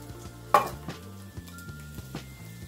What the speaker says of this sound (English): I'm going to let that saute for a little bit